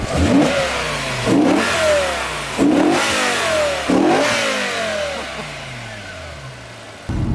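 A high-revving BMW M5 V10 engine accelerates in repeated pulls, each rising sharply then dropping as gears shift, loud and close with a throaty rasp.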